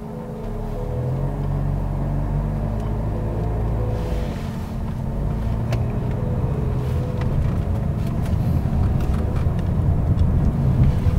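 Honda car on a transmission test drive after an overhaul, a steady loud engine and road rumble inside the cabin, building slightly toward the end.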